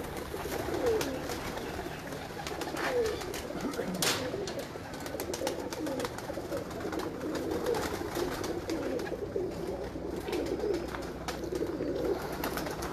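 A breeder's favourite pigeon cooing in a loft, soft repeated low coos over a steady noisy background with scattered clicks and rustles, fairly faint throughout.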